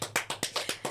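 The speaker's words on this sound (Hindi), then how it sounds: "तालियां" Seven sharp, evenly spaced hand claps in quick succession, crisp and close, heard alone with nothing behind them.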